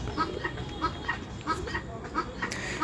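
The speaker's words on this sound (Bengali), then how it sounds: "আর আমার ব্যাকগ্রাউন্ডে মূলত আপনারা যে আওয়াজ শুনতেছেন ওটা হচ্ছে আমাদের তিতির মুরগির একটা আওয়াজ আর আমাদের পাখির আওয়াজ।" Guinea fowl and pet birds keep calling in the background, a steady run of repeated squawking notes at a regular pace, moderately near, over a noisy hum.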